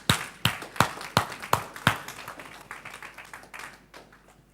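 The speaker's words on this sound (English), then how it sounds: "So a big round of applause." A conference audience welcomes panelists with a round of applause that opens with sharp, rhythmic claps and settles into a fainter, scattered patter over several seconds.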